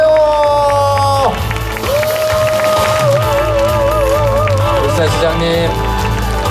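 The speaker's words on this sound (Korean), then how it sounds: "여러분들 큰 박수로 맞아주시기 바랍니다" Audience applause at a Korean political talk concert in Ulsan, sustained loud clapping and crowd cheering filling the space, with a voice carrying over the top.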